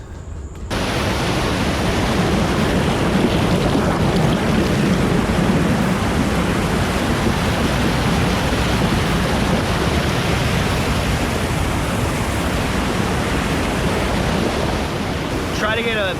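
A loud, constant roar of rushing water fills the scene, a dense broadband wash that barely changes throughout.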